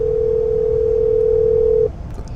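A steady telephone dial tone, heard while placing a call about a package held at a post office, plays loud and unbroken for almost two seconds, then cuts off, leaving quiet background.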